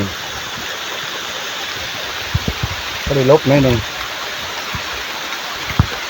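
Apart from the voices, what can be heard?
rain falling in the forest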